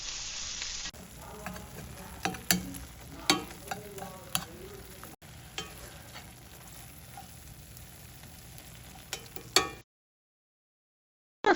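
Garlic, ginger, tomatoes and onions sautéing in a pan, a close, low sizzle with irregular clinks and scrapes of stirring, ending abruptly in silence.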